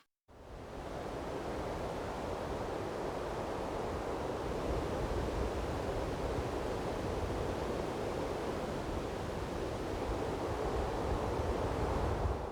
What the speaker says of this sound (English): I chose this wind sound because the wind has an eerie, wispy gust